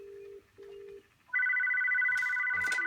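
An office desk phone on a business phone system gets an incoming call: two short low beeps, then a loud, steady, close electronic ring with warbling tones, with a brief burst of clicks near the end.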